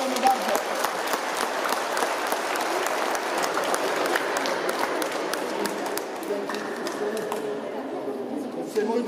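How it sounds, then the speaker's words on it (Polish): Crowd applause at a youth team award ceremony, sustained clapping that fills the space with scattered cheers and chatter mixed in, tapering slightly toward the end. "także wielkie brawa i dziękujemy bardzo"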